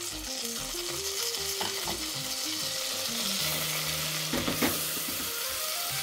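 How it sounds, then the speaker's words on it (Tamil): Marinated gravy for paneer biryani hisses in a hot pan with a steady, continuous sizzle, while a soft melodic tune plays faintly underneath. "இப்போ இந்த மேரினேட் பண்ண வச்சுருந்த அந்த விழுத கிரேவியை அதில் விட்டுடலாம்."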